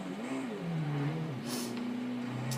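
A 2015 Audi S1 engine in Forza Horizon 2 holds a steady mid-pitched drone whose pitch rises, dips and climbs again, with a brief burst of hiss partway through, alone and moderately loud.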